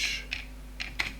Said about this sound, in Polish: Na początek otwórzmy sobie stronę programu Geekbench 5, czyli wpisujemy tutaj Geekbench